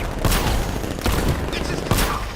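Heavy gunfire in Batman Arkham City, a dense, continuous crackle of shots with several sharper bursts standing out, loud and close, with voices partly buried beneath the noise.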